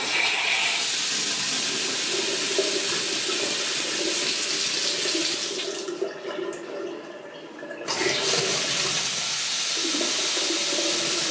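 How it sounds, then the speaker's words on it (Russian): Water gushes from a newly installed bathroom mixer tap into a sink, a steady, fairly quiet rushing hiss that dips briefly as the flow changes and then resumes at full strength. No one speaks. "Работает смеситель достаточно тихо, без раздражающего шума, как это бывает у других дешевых смесителей."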